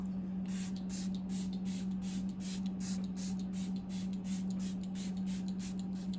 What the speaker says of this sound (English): we're gonna go ahead and spray the face with the Patrick Ta Dewy Milky Mist